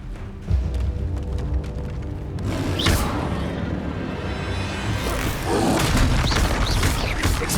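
Fiery spell blasts in a Hogwarts Legacy fight burst out as loud booming explosions with whooshing rumbles, layered over continuous game music and effects.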